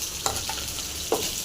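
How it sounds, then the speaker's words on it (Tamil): Tomato, pepper and cumin fry in a pan for a kuppaimeni herbal soup, giving a steady soft sizzle with two brief stirring scrapes over the top. "இது 3 சேர்த்து நல்லா கொஞ்சம் ஃப்ரை ஆகிடும்"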